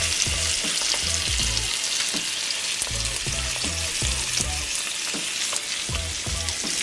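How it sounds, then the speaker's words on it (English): Salmon sears skin side down in a hot pan, giving a dense continuous sizzle with faint spatters and low rhythmic thumps throughout, close and unaccompanied by speech. "we're going to sear our salmon for about 2 minutes per side. Skin side down."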